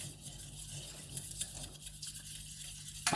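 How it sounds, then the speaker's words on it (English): A whisk scrapes and swishes steadily through white sauce in a pan, a soft continuous brushing rhythm at close range with faint metallic ticks, ending in a sharper clink. "just keep stirring, keep whisking"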